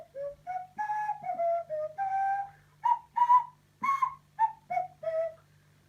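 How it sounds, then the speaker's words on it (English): A nose flute gives a series of breathy, whistle-like sliding notes in short phrases with brief gaps between them, close and clear with no talking. "Through the magic of this wonderful instrument called a nose flute."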